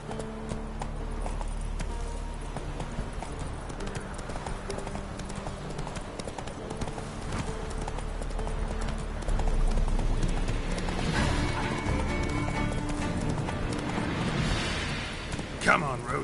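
Horse hooves clip-clop steadily while riding in the video game The Witcher 3, a continuous rhythmic trot over game music and ambience, with a voice briefly urging the horse on.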